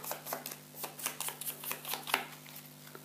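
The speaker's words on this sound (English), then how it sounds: "Shuffle them in." A deck of board game cards being shuffled close up, a quick run of rhythmic riffling bursts with soft flicks between them, quiet and alone.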